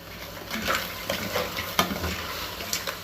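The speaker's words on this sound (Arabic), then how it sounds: "الفواكه البحريه دي تتشوح بقى في ريحه التوم دي" Seafood sautés with garlic in a hot pan, a close, steady sizzle broken by repeated scraping stirs and occasional clinks of utensil on metal.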